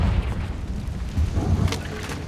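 A Confringo spell explosion in Hogwarts Legacy on PS5, a heavy low boom that rumbles on for the whole two seconds with a brief crackling burst near the end.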